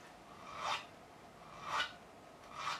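Three slow rasping strokes of a file dressing the frets of a 1972 Gibson Les Paul Deluxe, each drawn pass swelling and fading about a second apart, close and fairly quiet with no voices.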